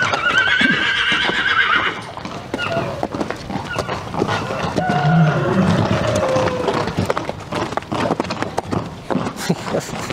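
Horses at an outdoor animal market neigh and whinny repeatedly over steady crowd and yard noise, with hoof clatter and other animal sounds in the background.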